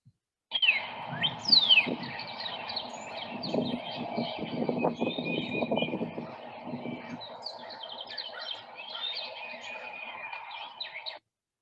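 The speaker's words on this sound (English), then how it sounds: "Okay, a lot of the same birds that we just heard." Several birds chirp and sing in a recorded playback, high sharp calls and trills over a soft, dense chattering bed, moderately faint and without voices.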